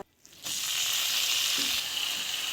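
Gongura pachadi ingredients hit a hot pan: after a brief quiet moment a strong hissing sizzle bursts in and continues evenly, with a faint stir or tap partway through and no speech.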